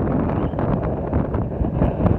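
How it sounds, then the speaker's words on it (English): Strong wind buffets the microphone high up on the Star Flyer ride at Blackpool, a loud, rumbling, continuous roar with no voices. "What a wind up here."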